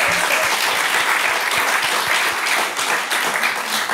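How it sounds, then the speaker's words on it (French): A studio audience gives a podcast guest a steady burst of applause, dense clapping filling the whole stretch at an even, full level without any talking. "j'aimerais un tonnerre d'applaudissements."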